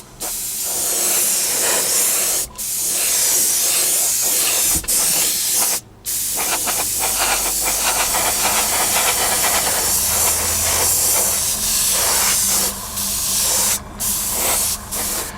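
Spray paint hisses out in long continuous bursts as a light coat is misted onto a scale model, loud and close, cut by a few brief pauses between passes.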